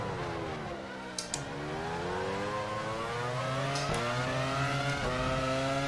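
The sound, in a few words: race car engine in a video game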